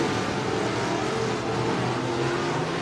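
Stock cars roar steadily around the turns at Buena Vista Raceway, a dense, continuous engine drone from a pack of racers with no break or pause.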